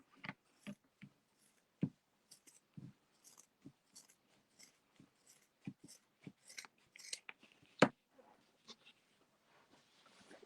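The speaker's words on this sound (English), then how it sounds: "if you did want to do that in scrap fabric, you just cut" Scissors cut scrap fabric into strips about 3 centimetres wide, giving a run of crisp, close snips at an uneven pace against near silence, quiet overall.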